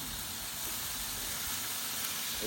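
A steady hiss of hot water sizzling and steaming in a pan of fried meat for bograch stew, continuous and close.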